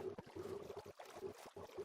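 Minecraft boat paddling across water in the PS5 game: faint, rhythmic splashing paddle strokes with a soft watery wash underneath, no voices.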